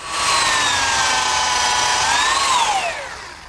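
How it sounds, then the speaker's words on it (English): A power drill pre-drilling and driving screws through a wooden umbrella stand lid into its lower rail gives a loud, steady high whine for about three seconds, then the pitch dips and winds down near the end. "now I pre-drill and screw the lid to the lower rail"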